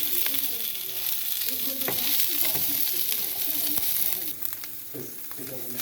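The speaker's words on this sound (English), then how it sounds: "Just saute that in about a teaspoon of oil." Sliced red onion sautés in about a teaspoon of oil, giving a steady, moderately close sizzle with occasional crackles and soft stirring scrapes throughout.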